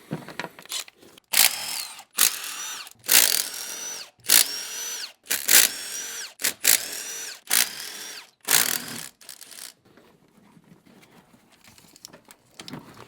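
A power tool, likely an impact driver, loosens the rocker arm bolts on a shop truck's engine during a cam swap, firing about eight short, loud whirring bursts in a row with brief gaps, then the tool goes quiet.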